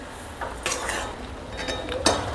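Carrot halwa with sugar being stirred in a pan: a spoon scrapes and clinks against metal in a few distinct strokes, with one sharper clink near the end, set against a soft steady background.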